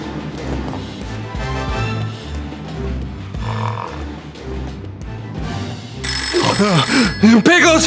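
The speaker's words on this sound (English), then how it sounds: "That's the phone." A telephone bell rings in trilling bursts near the end, loud over a busy bed of music and a voice shouting a word.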